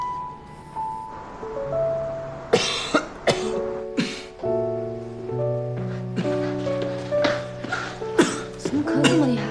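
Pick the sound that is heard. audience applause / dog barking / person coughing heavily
person coughing heavily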